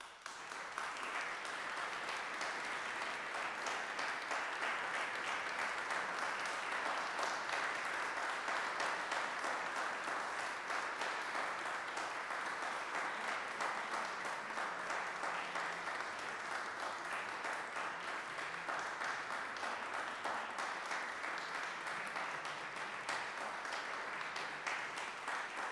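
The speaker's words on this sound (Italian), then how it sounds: "caloroso applauso" Warm, sustained applause from a festival concert audience, steady and dense throughout with no voices over it.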